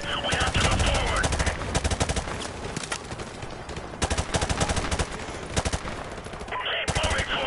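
Rapid machine-gun fire in the Call of Duty 4: Modern Warfare video game: loud, sustained automatic bursts with brief gaps, sharp and close, over battle noise.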